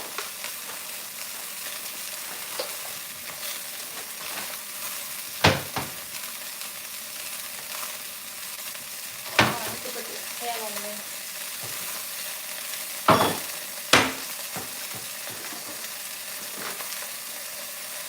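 Spinach sizzles and fries in a pan with a steady crackling hiss, broken by a few sharp clatters and stirring knocks from utensils against the pan.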